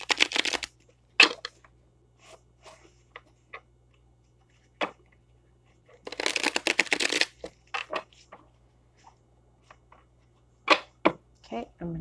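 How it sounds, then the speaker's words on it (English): Tarot cards are shuffled in several short bursts of riffling and flicking, separated by quiet pauses and soft taps. "I'm going to shuffle 13 times."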